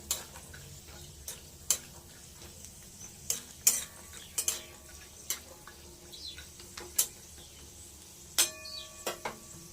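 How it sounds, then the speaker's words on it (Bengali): Peanuts fry in a quiet pan under a soft sizzle, punctuated by scattered sharp ticks and clinks of a utensil stirring against metal. "বাদামটাকে ভেজে তুলে নিই"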